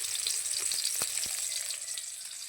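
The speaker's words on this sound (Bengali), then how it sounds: "এটা ভাজতে থাকুক, এটাও হয়ে গরম হয়ে যাচ্ছে দেখুন" Chopped vegetables and tomato frying in a hot pan, a steady soft sizzle with a few brief stirring knocks, close by and alone without talk.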